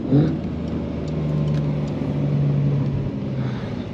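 A Porsche 911 engine hums from inside the car while it drives the Las Vegas Strip and changes lanes, a steady close drone with a brief rise in revs near the start and no talk.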